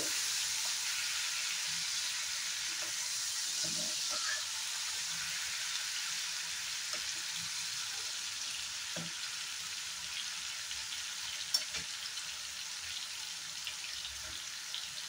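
Tomato frying in a pan for a fish curry, a steady gentle sizzle heard close up throughout, with occasional faint stirring scrapes and a small clink.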